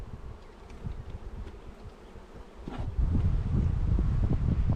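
Honeybees buzzing around hives during a hive installation, a dense, close swarm hum with wind rustle that grows louder and fuller midway as more bees fly up from a single-story hive.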